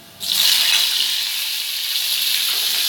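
Garlic frying in a pot as tomatoes go in, with a sudden loud sizzle that starts after a short quiet moment and holds steady, bright and hissing, close up.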